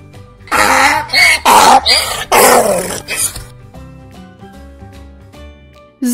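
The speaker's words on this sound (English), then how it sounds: "Donkey." A donkey brays in a series of loud, harsh bursts close by, then the sound fades into quiet background noise.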